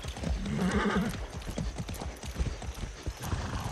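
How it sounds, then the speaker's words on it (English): A horse galloping in the video game Far Cry 6, a loud, close, rapid clip-clop of hooves running steadily, with a whinny near the start. "it's a long way to run with a horse"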